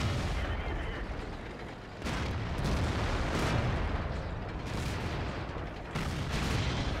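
Tank cannon fire in World of Tanks with a Type 59 on Himmelsdorf: a dense, loud rumble of heavy battle noise with several sharp bursts, no single clean shot standing apart.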